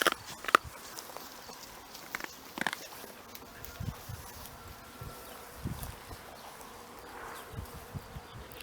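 Faint bees buzz on and off among flowers in a quiet outdoor setting, with scattered soft rustles and footsteps nearby.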